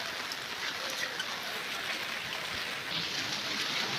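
Steady rain falls over a quiet vegetable market, a soft even hiss of drops on surfaces running throughout, with no clear voices.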